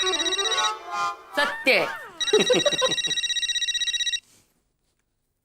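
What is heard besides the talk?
telephone ringing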